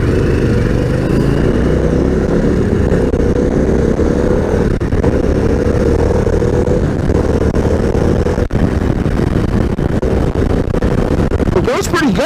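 A 2022 BMW 1250 adventure motorcycle with a 6-speed gearbox picks up speed on a rough trail, its engine droning loudly and continuously with rising revs and wind rush up close.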